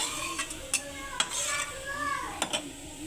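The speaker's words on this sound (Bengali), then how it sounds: "দিয়ে মরিচ দিয়ে ভালো করে মশলাটা কষাই লিয়াম" A spice paste with salt, turmeric and chili stir-fried in a pan, a soft sizzle under several sharp scrapes and clinks of a spoon against the metal, with no talk.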